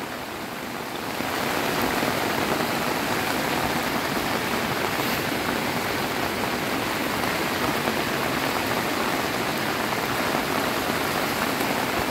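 The overflowing Pelang river surges as floodwater in a broad, steady roar of rushing water that swells after the first second and then holds loud and constant.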